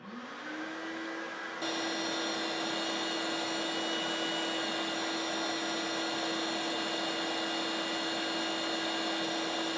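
Two shop vacuums run through a central dust separation line: one motor spins up with a rising whine, a second kicks in moments later, and the combined roar holds steady and loud to the end, without talk.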